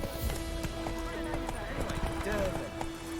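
A horse gallops in The Witcher 3 with rapid, steady hoofbeats that run throughout under game ambience, while a voice talks over it.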